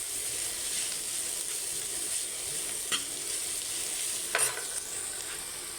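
Onion, garlic and red chili fry in a pan with a steady, close sizzle that runs the whole time, broken by a couple of brief scrapes as the mix is stirred.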